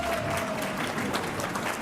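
A cheering section at a general session lunch applauds with dense, steady clapping that fills the room, a constant roar of many hands with no voices standing out.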